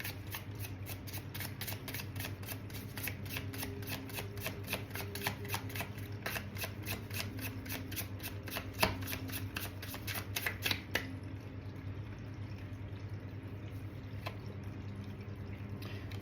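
Tarot cards are shuffled in a quick, steady riffle of crisp flicks for about eleven seconds, then give way to a quiet room with a couple of faint taps.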